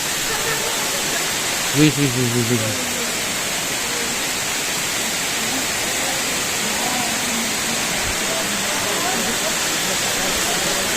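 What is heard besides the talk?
waterfall in East Java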